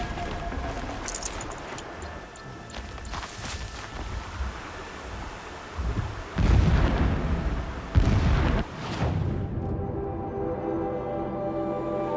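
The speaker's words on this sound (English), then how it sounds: "explosions in the distance" Distant explosions in the Horizon Zero Dawn video game, heard as several deep, rumbling booms spread over a steady wind-like ambience, with a louder blast partway through.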